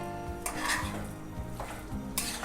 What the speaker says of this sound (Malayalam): ഇങ്ങനെ ഇളക്കിക്കൊണ്ടേ ഇരിക്കുക, അല്ലെങ്കിൽ ഇങ്ങനെ അടിക്ക് പിടിക്കും.